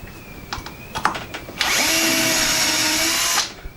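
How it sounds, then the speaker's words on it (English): A power drill fitted with a jig bit bores a shelf pin hole in a scrap of wood. A few clicks and knocks come first, then the motor whines loudly and steadily for about two seconds before stopping abruptly. "It comes with a drill bit that you use to drill accurate 1¼ inch 32mm spaced holes for shelf pins."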